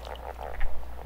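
A male leopard frog calls in short bursts of low, rattling croaks, a few pulses close together over a quiet outdoor background.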